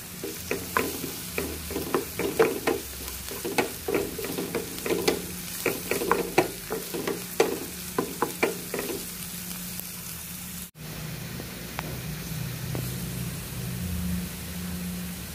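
Onion frying in a pan with a steady sizzle, stirred in quick repeated scrapes for about ten seconds, then the sizzle goes on alone after a brief cut.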